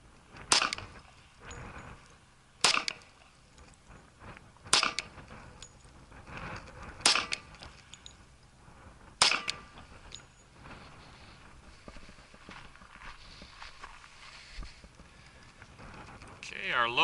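A 10mm Glock pistol with a factory 6-inch barrel fires five sharp, loud shots at roughly two-second intervals, with quieter room noise and handling between them.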